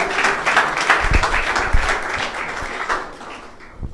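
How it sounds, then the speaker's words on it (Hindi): A church congregation claps at a sermon, loud, dense applause with a few sharper individual claps standing out, fading near the close. "हम जोरदार तालियां एक दफा फिर से बजाएंगे"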